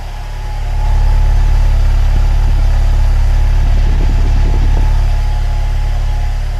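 A Ford Fiesta ST150 engine idles steadily with a low, even rumble throughout, close by, with faint mechanical ticking in the middle.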